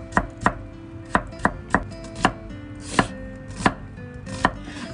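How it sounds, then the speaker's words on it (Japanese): A knife chops komatsuna greens on a cutting board for miso soup: about ten crisp, evenly spaced knocks, close and clear, with no talking. "小松菜は後入れだけど切っとく。"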